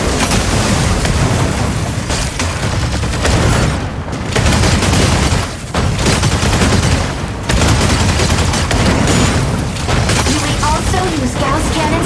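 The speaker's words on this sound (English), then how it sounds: "Use Gauss cannons to attack." Mech weapons fire in the video game Mecha Break, with Gauss cannons among them: a loud, continuous barrage of booming shots and rapid bursts that runs almost without pause through the whole stretch.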